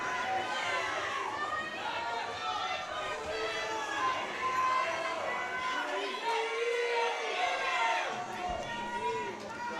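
Crowd at a high school powerlifting nationals meet cheers and shouts, a continuous loud wash of voices with rising whoops across the clip.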